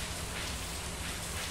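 Steady rain falls in Stardew Valley, a dense even hiss of drops on surfaces with no pauses throughout.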